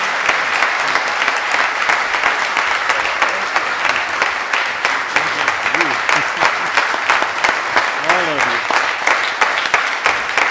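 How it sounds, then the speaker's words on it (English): A crowd gives sustained, dense applause after a Q&A session on national security and climate change, with a few voices briefly audible over the clapping. "let us give you a huge round of applause"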